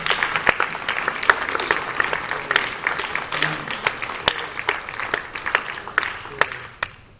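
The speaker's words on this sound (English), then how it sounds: "can you join me in giving a huge round of applause to all our guests this morning?" A church congregation applauds guests during a morning service, a steady crowd of clapping with sharp individual claps standing out, loud at first and tapering off at the end, with a voice speaking over it.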